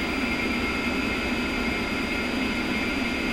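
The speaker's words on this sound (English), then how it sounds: "As with the left engine, monitor the instrumentation as the right engine spools up" Steady, loud jet whine from the right engine of an A-10C spooling up during startup in the DCS flight simulator, a continuous roar with a bright high tone and low rumble holding even throughout.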